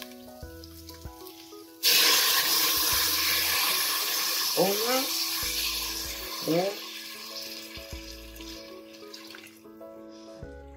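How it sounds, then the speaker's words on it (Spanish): Broth is poured into a hot pan of vegetable rice for a soupy rice dish, a loud continuous splashing pour that starts abruptly and runs for several seconds with sizzling, while a voice talks over it and music plays. "Y que vamos a poner el caldito"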